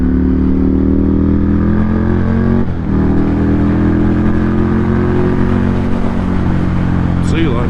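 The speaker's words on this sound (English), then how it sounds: "the bike sounds great" A Ducati 803cc motorcycle engine runs loud and close with a steady, rumbling idle and slight rises in pitch, its exhaust note dominating throughout with a brief clatter near the end.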